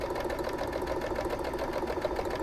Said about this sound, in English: going to sew right down here, that 1/4 inch seam allowance